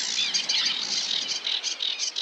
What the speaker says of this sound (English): the reed bunting,